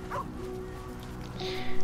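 A dog in the role-playing video game Baldur's Gate 3 lets out a couple of short, yipping barks and whimpers, fairly close and clear over faint background game ambience.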